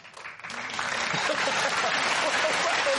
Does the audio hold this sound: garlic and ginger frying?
no